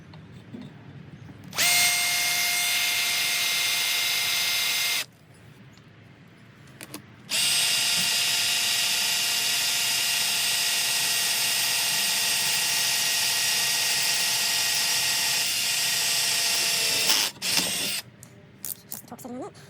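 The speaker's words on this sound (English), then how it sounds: "Now, let's drill these pinholes." A power drill bores pinholes into a Givi Monokey top box mount being adapted for an Outback Trekker 42L box. The drill runs loud and close in two long bursts, first briefly, then a sustained stretch with a steady whine, stopping and restarting once.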